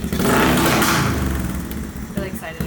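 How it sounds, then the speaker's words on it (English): A neighbor's freshly repaired motorcycle engine runs nearby with a loud, rough, throbbing rumble that swells and then settles. Someone talks over it. "my neighbor just fixed his motorcycle."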